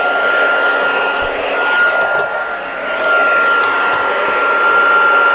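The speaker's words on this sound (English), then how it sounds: "So, embossing tool, heat tool on high." An embossing heat tool runs on its high setting, giving a steady, loud, close-up whooshing blower hiss with a faint whine that stays constant throughout with no talking.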